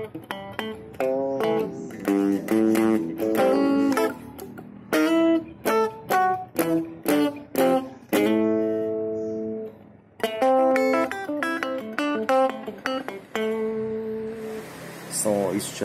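A Legend plywood Stratocaster electric guitar played through its bridge and middle pickups, with a steady run of clear picked notes and chords that goes on throughout.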